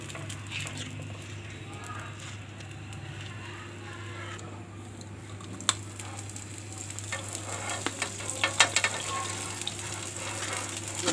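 Roti cooking on a hot tawa griddle for gobhi paratha, a soft continuous sizzle over a low hum, with a few sharp clicks and scrapes growing busier toward the end.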